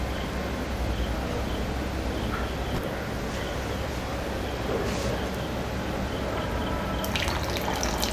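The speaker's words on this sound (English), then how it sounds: "Now we can just squeeze it and just add the water into the boiling curry." Steady wet squishing and trickling as soaked tamarind is squeezed into boiling prawn curry, close up, with occasional drips over a constant watery background and no talking.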